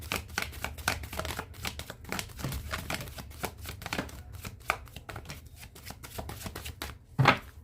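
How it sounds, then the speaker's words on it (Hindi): Tarot cards are shuffled by hand in a steady run of crisp riffling flicks and taps, close and fairly quiet, with a sharper snap near the end. "one more shuffle and last shuffle Prabhu"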